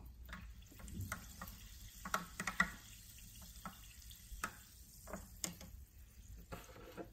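Sparkling water in a sample cup is stirred before testing. It makes faint, close clinks and scrapes, with a soft fizzy crackle between the taps, and no one speaks.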